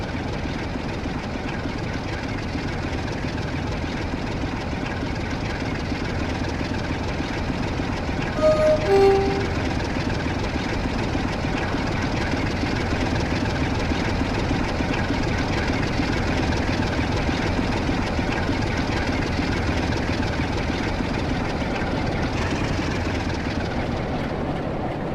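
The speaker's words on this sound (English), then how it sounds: "Now connected, the 47 leaves for the reception sidings" A Class 47 diesel locomotive pulls away toward reception sidings with a steady, loud engine drone and rumble that continues throughout, and a brief tonal squeal partway through.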